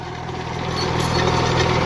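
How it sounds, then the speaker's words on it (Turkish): A tractor engine drones steadily and loudly while pulling an Özdöken HMB N16 seed drill that sows Bosut barley in a field. The sound is a continuous, close, unbroken rumble. "Traktörün sesinden biraz bağırmak zorunda kalıyorum."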